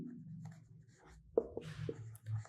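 Pen or chalk scratches across a board during a physics lesson on collisions, short close strokes and taps with brief pauses between them.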